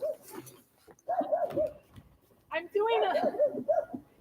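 A dog close by at home whimpers and yips in uneven bursts of high, whining cries separated by short pauses.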